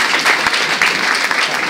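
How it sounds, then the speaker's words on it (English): A loud, dense round of applause from an audience as a speaker is welcomed to the stage, many hands clapping at once in a continuous wash, close and full. "Please welcome her with a huge round of applause."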